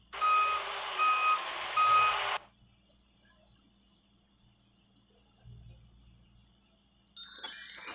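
An animated car backs up with a reversing alarm: three loud, evenly paced beeps, then near silence before a brighter tone cuts in at the end.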